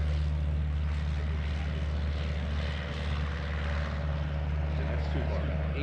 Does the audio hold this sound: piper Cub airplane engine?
yes